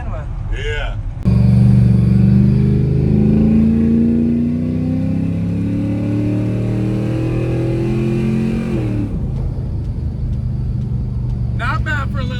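A Chevy LS engine swapped into a Ford F150 truck roars loudly and holds high revs during a burnout, its pitch slowly sagging before cutting back to a rumbling idle, with voices speaking near the start and end.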